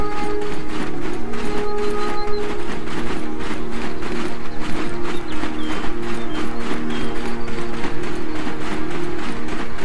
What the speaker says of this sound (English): All right, come on, horse.